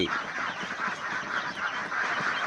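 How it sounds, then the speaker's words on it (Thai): A dense, steady chorus of Lohmann Brown laying-hen chicks about three to four weeks old peeping and chirping together, close by and continuous without pause. "ไก่อายุสามสัปดาห์"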